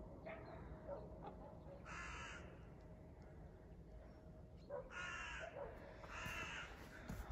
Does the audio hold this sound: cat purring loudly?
no